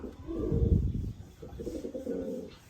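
Pigeons coo on a rooftop loft perch, a low, steady rolling burble that swells and fades across a few seconds, close by, with a faint bit of background noise.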